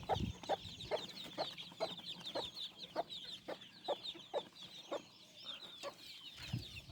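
Hens cluck in a steady run of short calls with chicks cheeping busily over them, close by and continuous.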